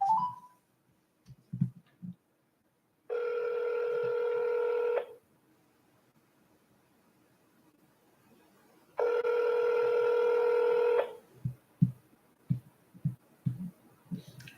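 Two long, steady electronic telephone tones play during a live scam-baiting call, each lasting about two seconds with a pause between. Soft knocks and taps fill the quiet gaps, and no one speaks.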